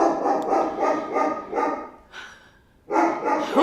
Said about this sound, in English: she always barks at the most inopportune time